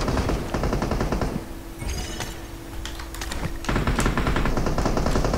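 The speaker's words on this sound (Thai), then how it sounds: "มันได้ยิงกับตี้อื่นน่าจะตี้เหมืองนะมั้ง" Gunfire rattles in the battle royale video game PUBG Mobile: rapid bursts of automatic shots loud in the foreground, a lull with sharper distant single cracks, then sustained firing again, with no talking.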